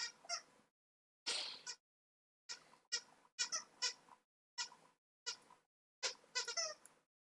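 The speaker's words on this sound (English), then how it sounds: "She would like you to know that she found a squeaky toy." A squeaky toy is squeezed over and over, giving roughly ten sharp, close squeals in irregular bursts with silent gaps between them.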